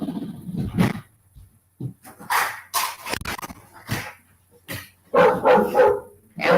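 A dog barks repeatedly nearby in irregular bursts, some sharp and some whiny, with short pauses between.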